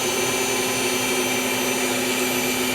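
Electric mixer beaters whirring steadily through banana pudding cake batter, a constant loud motor hum with no pauses.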